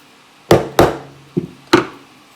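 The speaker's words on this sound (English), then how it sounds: "Get a little soft hammer so you're not scratching anything." Four crisp taps of a soft hammer on a pin of an HK P2000 9mm pistol, close by, spaced unevenly with a short ringing tail after each strike.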